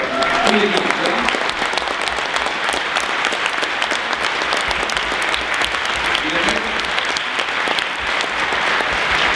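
An audience at a Parti québécois leadership candidates' debate gives sustained, dense applause, loud and continuous throughout, with voices faintly mixed in.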